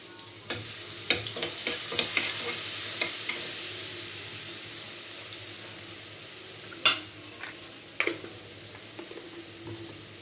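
Garlic frying in a shallow layer of oil in a pan, a soft steady sizzle with scattered scrapes and clinks from stirring, the loudest near the middle and end, no talking.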